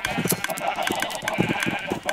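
Sheep bleat in a blocky city-building video game, several short calls in quick succession, fairly close, over a steady game backdrop with a voice talking over them.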